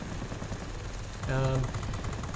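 Rapid burst of aircraft gunfire from a Skua plane in a video game, a short stuttering volley rising over a steady engine drone and then fading back into it.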